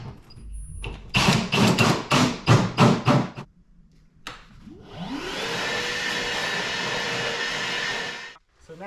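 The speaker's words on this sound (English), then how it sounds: "So now that I have the hole drilled" A power drill bores through the metal bed of a Ram 2500 pickup, a loud steady whine holding for about four seconds after a burst of louder knocking and voice-like sound near the start.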